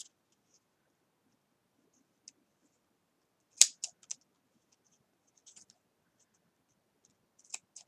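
Scissors snip through a strip of foam mounting tape while a scene card is assembled: one sharp close cut followed by a few small clicks and rustles, with a final snip near the end in an otherwise quiet room.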